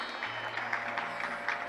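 An audience claps steadily and softly at a Jain monk's spiritual discourse, a continuous patter of many hands heard from a distance without any talking.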